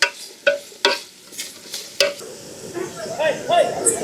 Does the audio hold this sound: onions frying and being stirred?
yes